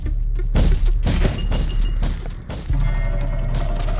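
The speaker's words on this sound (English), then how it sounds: "The small bomb exploded so close to him" A small bomb blows up in the game Doors with a loud close boom and shattering crash, followed by rumbling thuds and a second heavy impact that settles into a low roar.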